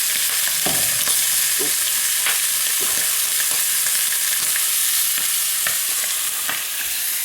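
Steady bacon sizzle in a frying pan, a dense hiss with scattered pops and crackles throughout, close and loud, no voices.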